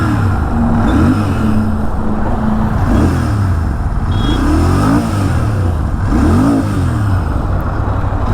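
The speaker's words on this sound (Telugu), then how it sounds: "ఇప్పుడు ఈ వెహికల్ స్టార్ట్ చేస్తాను, ఒకసారి ఎగ్జాస్ట్ సౌండ్ అయితే వినండి." A Royal Enfield Interceptor 650 fitted with a Red Rooster aftermarket exhaust idles with a loud, deep burble close by, with several rising-and-falling throttle blips repeating throughout.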